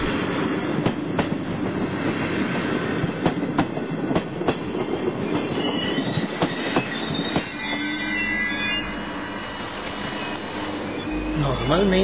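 Train ride on a crowded regional line near Brescia, with the loud rumble of rolling wheels and rhythmic clacking on the rails, then high, wavering wheel squeals toward the end, while people talk faintly inside the carriage.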